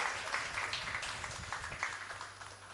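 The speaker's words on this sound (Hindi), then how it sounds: "ताली बजाकर मुस्कुराकर आनंद हो।" Audience clapping fills a Jain Dashlakshan festival gathering in Dwarka, Delhi: dense, steady applause from many hands throughout, moderately loud with no voices standing out.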